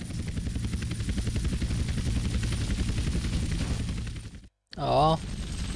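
Helicopter rotor chop in the video game GTA Vice City Stories, a steady loud rhythmic thumping under mixed game noise, then cut off by a brief silence before a short burst of another sound.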